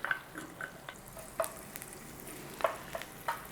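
Garlic in butter in a pan gives a faint, steady frying sizzle, with scattered soft pops and stirring clinks. No one talks.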